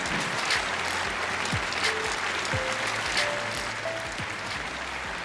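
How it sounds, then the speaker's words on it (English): An audience at the Infoshare Inspire stage applauds a keynote speaker with sustained, even clapping throughout, with faint music tones and low rumbles underneath. "Please welcome our keynote speaker, Allister. A big round of applause"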